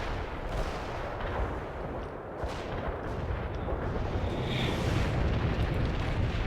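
An artillery barrage in the video game World in Conflict rumbles on as dense, overlapping explosive booms and crackling blasts. The roar is continuous and grows slightly heavier toward the end, with no voices.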